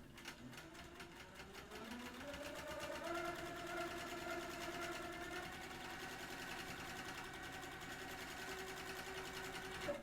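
A sewing machine stitches quilt pieces, a steady close whirring with rapid needle chatter that starts softly and runs continuously, with faint talk in the background.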